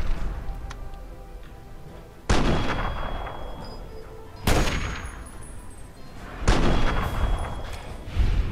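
Gunfire from weapons in the modded game Fallout 3: three loud, sharp shots spaced about two seconds apart, each leaving a long decaying tail over a low background.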